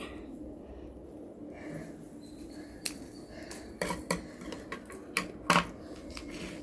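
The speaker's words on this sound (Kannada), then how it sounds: "ಅದರಲ್ಲಿರೋಂಥ ಒಣಗಿರೋ ಎಲೆಗಳನ್ನು ನಾನು ಕಟ್ ಮಾಡಿ ತೆಗಿತಾಯಿದ್ದೀನಿ" Dry leaves being snipped off anthurium plants outdoors, a scattering of crisp cuts and rustles, sparse at first then several sharper snips close by, over a low steady background hum.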